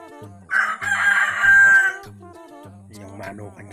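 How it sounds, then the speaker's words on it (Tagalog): A Kabir rooster crows loudly nearby, one long drawn-out call, with other clucking and fowl sounds around it. "Yun, kabir. Kabir chicken. Kabir manok."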